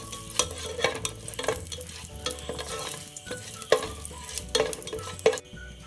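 Cardamom, cloves and cinnamon get stirred in a hot pan for kichadi rice, with a soft sizzle under repeated sharp scrapes and taps of the spoon at an irregular pace, close up, ending abruptly.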